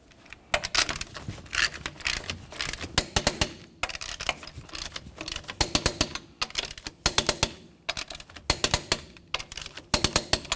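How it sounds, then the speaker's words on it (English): A torque wrench tightens the wheel lug nuts on a 1999-2006 Chevrolet Silverado 1500 with bursts of rapid ratcheting clicks, separated by short pauses between nuts. The clicks are crisp, close and fairly loud. "let's torque these to 140 foot-pounds in a crisscross manner"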